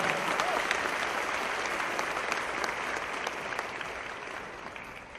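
Sustained applause from a large audience at a political speech by Chief Minister Chandrababu Naidu to Telugu NRIs in the US, a dense even wash of clapping that stays loud throughout.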